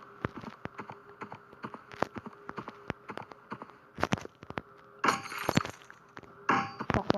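Glass shattering in a Hello Neighbor-style video game, two bright crashing bursts near the end after a series of sharp clicks and knocks, fairly quiet and without speech.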